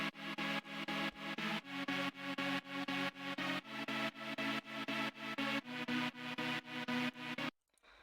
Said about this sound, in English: And then we have our choppy chords